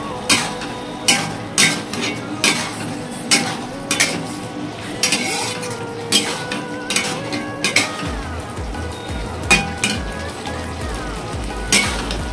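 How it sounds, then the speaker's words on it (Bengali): Spice masala for biryani stirred and fried in a pan, with a regular rhythm of metal spoon scrapes and clinks against the pan over a low background sizzle, close and moderately loud. "পাঁচ থেকে 7 মিনিটের মতো মশলাটাকে একটু কষিয়ে নিতে হবে।"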